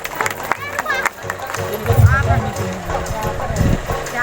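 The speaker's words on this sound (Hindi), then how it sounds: "ताली बजाएंगे परमेश्वर के लिए।" A church congregation at a Sunday prayer meeting claps for God, bursts of hand clapping rising and falling around a speaker's voice and other chatter.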